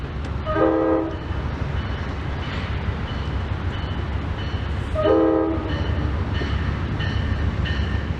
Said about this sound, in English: Train 6, the California Zephyr, heads east for Chicago.